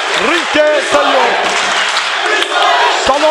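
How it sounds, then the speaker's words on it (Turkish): Boxing arena crowd cheering for İsmail Uzuner: a loud sustained roar with rising shouts and whistles, a commentator talking over it. "Salonda İsmail Uzuner'e büyük bir tezahürat var, destek var."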